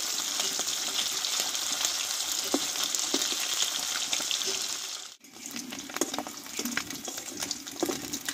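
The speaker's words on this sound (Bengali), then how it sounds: "দেখো বন্ধুরা, মাছগুলো কিন্তু ভাজা হয়ে গেছে" Tilapia fish frying in oil, a steady close sizzle with scattered pops that dips briefly near the middle before crackling on as strongly as before.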